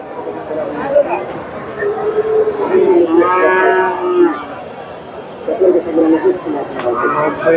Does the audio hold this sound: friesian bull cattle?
yes